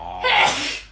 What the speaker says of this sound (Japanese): くしゃみする男やね。